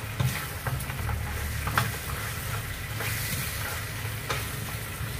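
Pork feet fry in a pan over medium heat for a Chinese-style braise, a continuous sizzle with scraping and clinking as they are stirred, close and steady, with no talking.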